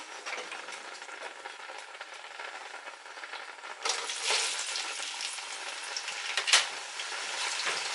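Onion going into a simmering Ghanaian okra stew with a steady frying sizzle that swells louder midway, with a few sharp stirring scrapes and a clatter near the end, no voices.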